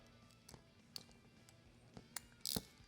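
A nylon locking nut is tightened onto a motorcycle phone mount for a Honda Gold Wing, producing faint, close clicks and ratcheting taps spaced about half a second apart.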